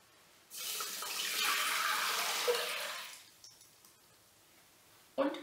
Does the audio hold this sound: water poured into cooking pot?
yes